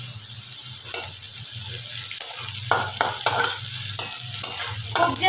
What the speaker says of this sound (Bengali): পেঁয়াজটাকে একটু লাল করে ভেজে দিতে হবে